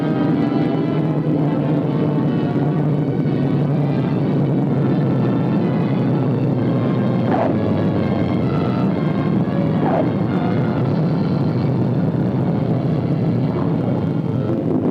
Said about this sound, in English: An aircraft of a Hurricane Reconnaissance Squadron arrives from Guam.